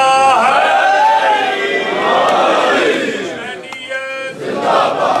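A large crowd at a Muharram religious gathering in Barcelona shouts religious slogans in unison, loud, massed voices rising together in a sustained chant that dips briefly before swelling again.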